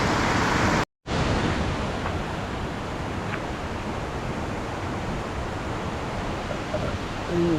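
Taytay waterfall in Majayjay, Laguna, pours as a constant broadband roar, loud and close, steady after a brief dropout near the start.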